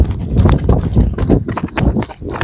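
Horse hooves clip-clop in a steady, uneven rhythm at a horse sale, close and fairly loud, with a few voices talking underneath.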